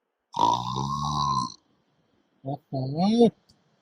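A man imitates a buffalo with his voice: one long, low, droning bellow, then a short grunt and a second rising, wavering call, close and clear with a pause between.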